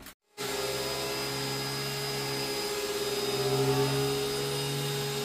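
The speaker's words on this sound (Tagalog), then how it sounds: "Yun na yung dry vacuum." A dry vacuum cleaner starts up after a brief silence and runs steadily with a loud, constant motor whine, close and uninterrupted.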